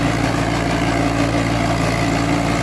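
A VST Mitsubishi Shakti tractor's heavy diesel engine runs loudly and steadily nearby at 2400 rpm, a constant low rumble with a rough mechanical drone and no voices.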